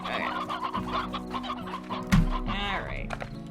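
Briar hens in the video game Slime Rancher cluck in short, soft bursts on a farm ranch, with a brief sharp sound midway and game ambience beneath.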